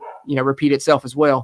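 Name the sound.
dog barking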